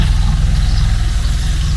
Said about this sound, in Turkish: Evet, traktör geçiyor.